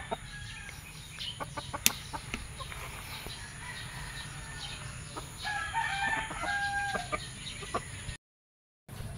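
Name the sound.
farm chickens clucking and rooster crowing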